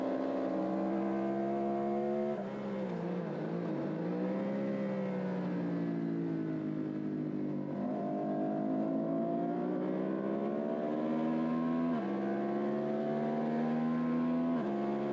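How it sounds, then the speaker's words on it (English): A KTM racing motorcycle at a bracket racing meeting, a sustained engine note rising and falling with gear changes as it passes nearby on the track, steady and fairly loud with no talk. "There goes Adam Terry on his KTM"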